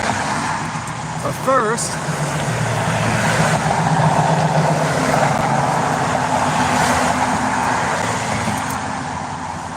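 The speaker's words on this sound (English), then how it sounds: "I can't hear myself because of all the traffic" Steady road traffic rumbles past along a Texas roadside during a trash cleanup walk, a loud continuous roar of cars and trucks with a brief voice speaking near the start.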